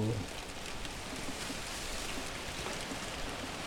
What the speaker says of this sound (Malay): Air hujan oh, air hujan.